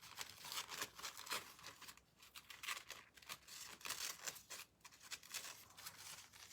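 Scissors snip through a floral paper napkin in a crafting session, a run of quick, crisp cuts with papery crinkling between them, close and fairly quiet with brief pauses.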